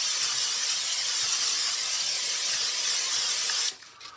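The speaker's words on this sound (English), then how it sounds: "I'm also gonna leave with some cooking spray" Cooking spray oil hisses steadily from a can into a baking dish for a few seconds, a close, bright continuous spray that cuts off abruptly near the end.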